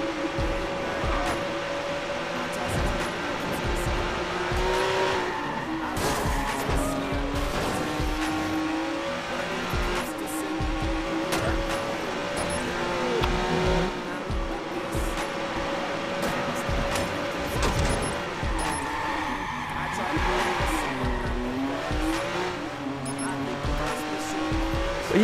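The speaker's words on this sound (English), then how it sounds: "gonna drive another Lambo" A Lamborghini races through the Watch Dogs online free-roam game, its engine revving up and down through gear changes while tyres squeal and skid, loud and close throughout, with a voice talking over it.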